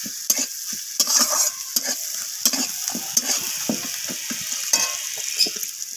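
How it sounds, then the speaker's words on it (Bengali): Onions fried to light brown sizzle steadily in a pan, with repeated scraping and stirring clicks from a utensil throughout, close and clear, no talking. "তো এখানে পেঁয়াজটা আমার হালকা বাদামি রং করে ভাজা হয়ে গেছে।"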